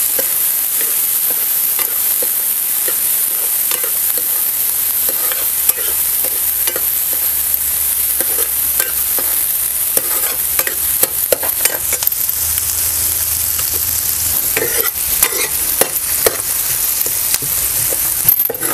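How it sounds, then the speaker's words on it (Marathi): Finely chopped onions fry in a pan for a village-style egg curry while a spatula stirs them: a constant soft sizzle broken by frequent scraping and tapping strokes, close and alone without speech. "कांदा सुद्धा आपल्याला चांगलंसं लालसर होईपर्यंत आहे ना हे परतून घ्यायचं"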